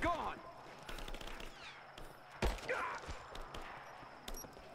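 Gunfire in the video game Rise of the Tomb Raider, scattered sharp shots and short bursts popping at moderate distance amid rustling combat effects and swooshes, fairly quiet overall.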